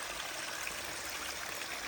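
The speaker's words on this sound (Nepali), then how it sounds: "पानी यसरी छोड्छ" Water runs into a village rice paddy field during rice planting, making a soft, continuous rushing flow that stays faint and even throughout, with no voices.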